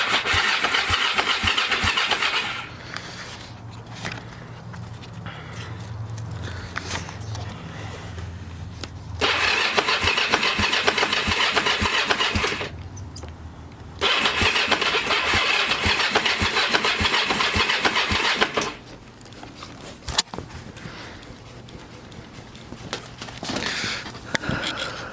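An abandoned Kawasaki Ninja 500 motorcycle, choke on, cranks over repeatedly in bursts with pauses between tries, its engine catching and running roughly before dropping back. The sound is steady and moderately loud with no talking.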